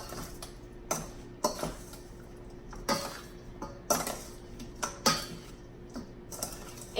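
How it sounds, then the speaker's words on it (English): A spoon clinks and scrapes around a bowl while jerk chicken wing seasoning is mixed, giving a string of sharp, close metallic taps at an irregular pace over a quiet room. "I'm gonna take the spoon and I'm gonna just go in and mix this all up"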